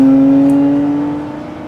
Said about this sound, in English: it started to make an awful lot more noise. I don't know if a valve stuck open somewhere in the exhaust